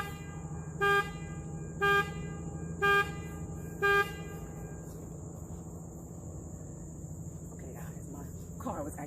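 Four short car horn toots, evenly spaced about a second apart, sound over a steady outdoor background of insects and distant traffic, followed by quieter ambient noise in a yard.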